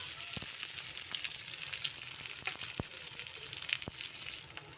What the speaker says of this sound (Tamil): வெங்காயத்தை நல்லா பொன்னிறமாக ஆகிற வரையும் வறுத்து எடுங்க